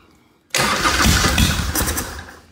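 Monte Smith motorcycle engine firing up after a long layup, a sudden loud close roar that catches after a quiet lead-in and settles into a rough, rumbling idle that fades slightly.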